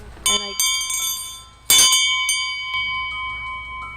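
A hand bell struck several times, bright ringing strikes with long shimmering resonance that lingers and fades between hits.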